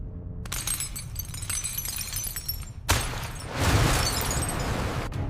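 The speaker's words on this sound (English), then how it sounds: "Glass cracks." Glass cracking and shattering as deep-ocean water pressure crushes it: dense crackling and splintering, a sharp burst near the middle, then a louder sustained crunching roar, with no voices.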